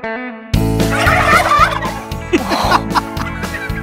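Loud, close gobbling from big turkeys on a Central Oregon farm, a rapid burst of warbling gobbles repeating several times over a constant low hum.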